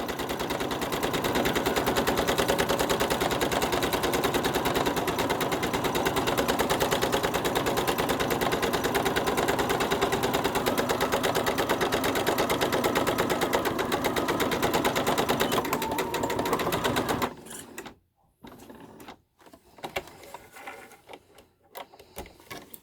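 A sewing machine stitches a stomacher for a gown along a blue chalk line, a loud, dense, rapid mechanical chatter running steadily for about seventeen seconds before stopping abruptly, leaving a few soft handling sounds.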